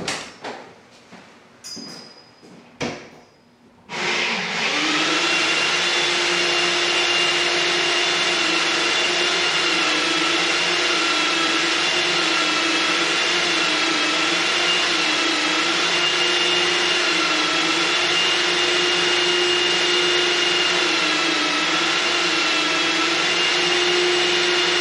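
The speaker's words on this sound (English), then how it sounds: "that belt sander is loud" A belt sander in a guitar workshop runs loud and close with a steady droning whine after a few seconds of handling clatter, then holds on without a break.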